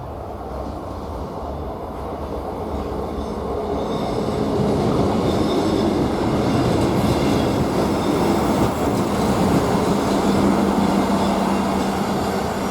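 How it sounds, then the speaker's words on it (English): A South Western Railway Class 444 electric train arrives at Eastleigh station, a loud continuous rumble of wheels and motors building as it draws in, with a sustained brake squeal near the end. "at least I got my favourite train. Oh, 444 number 40."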